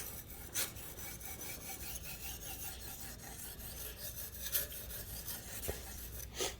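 A knife is drawn across a 1000 grit whetstone in repeated rhythmic rasping strokes, faint and close, with no talk.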